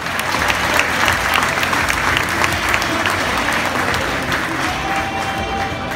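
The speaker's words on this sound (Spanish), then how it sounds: "brindemos un fuerte aplauso." Strong, dense applause from a crowd gathered at a school ceremony in a rural ejido, steady and sustained throughout with no one speaking.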